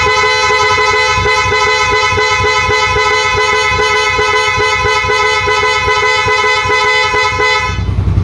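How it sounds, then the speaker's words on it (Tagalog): A Yamaha Mio Sporty scooter horn blares in one steady, unbroken honk held for about eight seconds, loud and close, with no talk over it. "check tayo ng busina mga sir"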